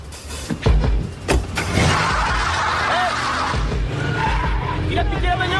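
A stolen car speeds away with tires skidding and squealing loudly, the engine roaring over scattered shouts, followed by a sustained rush of motor and road noise.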